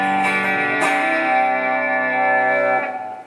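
A 1987 Alvarez electric guitar on its bridge humbucker through a Crate amp rings out sustained, slightly crunchy strummed chords with chorus-like shimmer, close and loud, with no talking.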